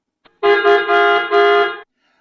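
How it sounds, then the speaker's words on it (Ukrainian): A car horn honks in several sustained blasts, loud and close, with a short gap between the first pair and the final long toot. "Це вже нам сигналить водій, щоб ми були обережні на дорозі."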